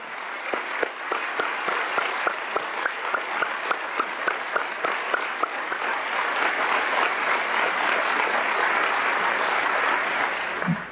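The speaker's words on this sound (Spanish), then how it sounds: "Pido un aplauso para todos los que se hicieron maestros" Audience applause for teachers at a Cuban national gathering, a large crowd clapping steadily and loudly for about eleven seconds with a few sharper individual claps standing out, then cutting off abruptly.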